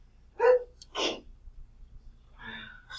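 A single sharp sneeze bursts out close by, followed by a quick breathy intake and a softer second sound, with faint room noise between, during a math lesson on expanding binomials.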